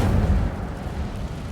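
A fire spell is cast in the Hogwarts Legacy video game: a loud, dense roaring burst with a rumbling low body that holds steady for over a second, with no voices.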